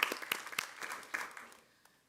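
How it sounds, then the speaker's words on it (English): A small audience at a school board meeting claps briefly and faintly, a loose scatter of hand claps that tails off into quiet within about two seconds. "Oh, let's clap for that."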